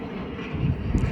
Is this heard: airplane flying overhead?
yes